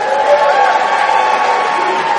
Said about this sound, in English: The people from South Carolina need to cheer down a little bit